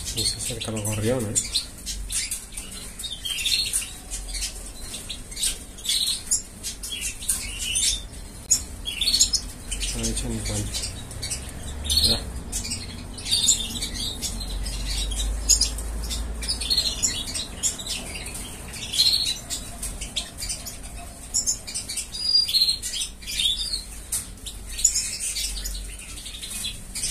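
Sparrows chirp busily and continuously nearby, a lively chatter of overlapping calls with occasional low background rumbles.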